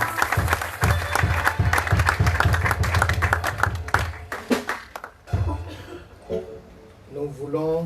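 A church congregation applauds the Lord with loud rhythmic clapping in steady unison beats, then the clapping breaks up and fades while a voice speaks over it.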